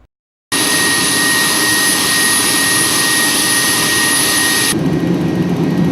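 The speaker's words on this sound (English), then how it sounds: "Unlike the G4 jet, the P-3 flies right into the eye of the storm." Inside a NOAA P-3 Hurricane Hunter plane flying through a hurricane, a loud, steady engine roar starts suddenly after a brief silence and continues unbroken, with a high whine that drops away near the end.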